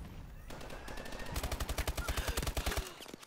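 Rapid automatic gunfire in a first-person shooter video game, a fast steady burst of close, punchy shots lasting about two seconds after a quieter lead-in.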